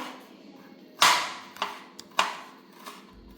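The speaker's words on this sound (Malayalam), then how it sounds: "ഇതുപോലെ ചെറുതായി കട്ട് ചെയ്തെടുക്കുക" A knife chops beetroot into small pieces on a board in a few sharp, separate strikes, each with a short bright crack that quickly fades, over a quiet background.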